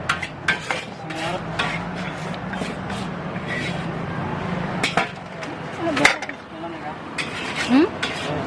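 Metal utensils clatter and scrape against a pan while a jumbo portion of nasi goreng (Indonesian fried rice) is stir-fried, with steady sizzling and clinks throughout and voices talking over it.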